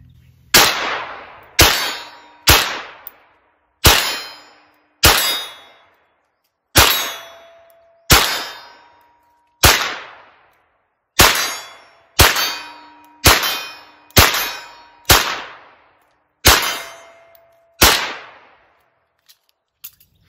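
A Ruger American Competition 9mm pistol fires about fifteen shots at an outdoor range, spaced a second or two apart. Each sharp crack is followed by a bright metallic ring from steel targets at 20 to 40 yards.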